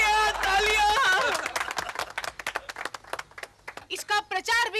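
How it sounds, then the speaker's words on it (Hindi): Studio audience applause breaks out after a sung or spoken line, a dense patter of many hands clapping that swells and then thins into scattered claps, with voices still faintly mixed in. "तालियां।"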